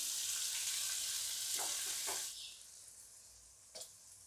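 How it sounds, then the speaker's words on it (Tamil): Tomatoes and curry leaves fry in a pan with a loud, close sizzle that drops to a softer hiss partway through. A few brief stirring scrapes sound over it. "தக்காளி நல்லா வதங்கட்டும் இது கூடவே கருவேப்பிலையும் போட்டுருவேன்"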